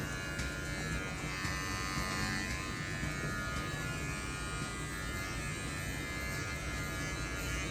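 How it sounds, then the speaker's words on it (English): Electric hair clippers cut through hair during a drop shadow fade haircut, a steady close buzzing hum that runs unbroken and even throughout, with no voices. "I'm actually just cutting through his hair"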